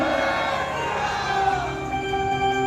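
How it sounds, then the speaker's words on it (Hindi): A crowd at a welcome event cheers loudly with sustained voices and shouting, a dense, continuous roar with chant-like tones rising through it. "कृपया जोरदार तालियों से एक बार स्वागत करें और एक बार जोरदार नारा लगाए, जय श्री राम।"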